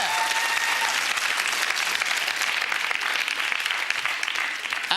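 A studio audience at a game show breaks into sustained, dense clapping that holds steady for several seconds, full and close, with no voice over it.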